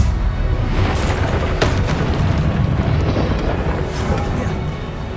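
A Confringo spell explosion in Hogwarts Legacy, a loud, heavy blast with a rumbling boom and sharp crackling bursts layered over it, sustained throughout.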